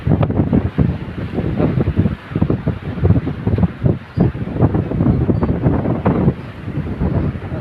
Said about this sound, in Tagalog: Sa Rizal, lakas ng hangin.